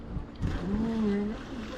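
A motorboat engine drones on the sea with a low, wavering hum, heard through wind noise on the microphone.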